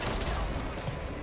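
A grenade explodes in the video game Mass Effect 3, a short burst of dense, rumbling blast noise that fills the whole moment.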